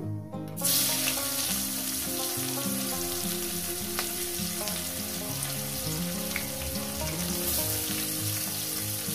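Black cumin and sliced onions fry in hot oil in a pan, giving a close, loud, continuous sizzle with crackling pops that holds steady throughout.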